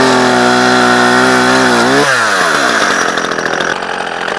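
A chainsaw with its blade resting on the ground cuts through a piece of wood, loud and close, the engine pitch dropping sharply as the chain bites into the log and then grinding on roughly.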